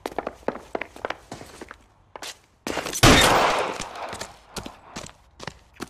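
Gunfire in the detective video game L.A. Noire, a series of sharp cracking shots and a loud blast, set against clattering footsteps and short bursts of action noise.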